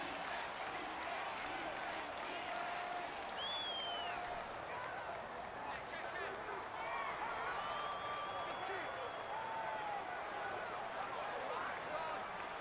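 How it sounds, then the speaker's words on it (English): Loud home crowd at a Kansas City Chiefs versus Atlanta Falcons NFL game, heard as a dense, constant roar of stadium noise with scattered whistles and shouts, a commentator talking over it. "The crowd's not doing that O-line any favors."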